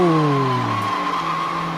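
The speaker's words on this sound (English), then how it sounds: "that car's fire, Shane. The SS Monte Carlo." A Chevrolet SS Monte Carlo skids with a loud, sustained tire squeal whose pitch slides downward over under two seconds, with engine roar beneath it.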